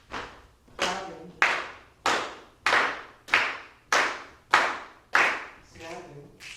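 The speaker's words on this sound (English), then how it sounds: "clapping," Hands clap in a steady rhythm during a music rhythm lesson: about nine crisp, evenly spaced claps, close and clear, with no talk over them.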